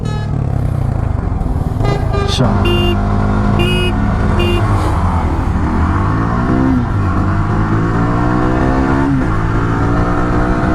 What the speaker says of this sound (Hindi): ये हंटर का एग्जॉस्ट।